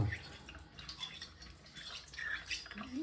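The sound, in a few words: rinsing sharpening stone and razor under running water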